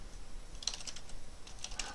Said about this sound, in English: in this text box we're going to type